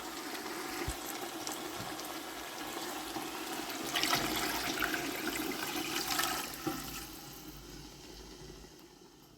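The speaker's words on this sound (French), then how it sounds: "Et maintenant, je vais rajouter l'eau." A litre of water is poured into a cooking pot while making couscous, giving a steady, rushing gush that swells in the middle and tapers off toward the end, with no talking.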